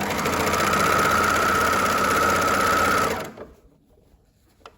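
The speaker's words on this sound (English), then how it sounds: "And then you're going to pull, and you're just going to overlock." An overlocker sews stretched elastic into a skirt waistband, running loud and fast with a steady buzzing whir for about three seconds before winding down and stopping, close by.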